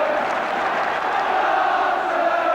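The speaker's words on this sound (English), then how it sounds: "Crowd getting behind Tottenham now" Football crowd at a 1975/76 FA Cup third-round match between Tottenham Hotspur and Stoke City, a sustained roar of cheering and chanting for Tottenham that fills the ground evenly, with no distinct peaks.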